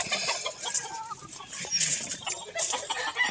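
Fighting roosters at a cockfighting farm cluck and squawk in short bursts, fairly close, with a couple of sharper cries standing out over a quiet background.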